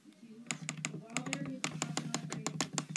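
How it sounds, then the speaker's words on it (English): Rapid computer keyboard and mouse clicks come close and fairly loud in an irregular rhythm, mixed with someone talking. "I'm clicking."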